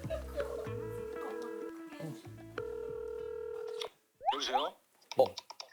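A phone number is dialed for a call, a quick run of steady keypad tones over background music, followed by a brief gap and some soft handling and rustling noises.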